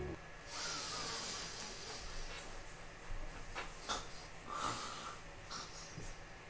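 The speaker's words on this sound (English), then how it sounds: "And here is a different perspective of smelling, or sniffing, whatever." A person sniffing through the nose, several quick sharp inhalations spaced unevenly over a quiet room, close and fairly soft.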